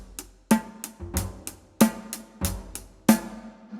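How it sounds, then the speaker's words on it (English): Acoustic drum kit plays a steady straight eighth-note groove, with regular kick and snare hits under evenly spaced cymbal strokes, close and clear with no voices. "Most of the music we hear today is based on straight 8 notes,"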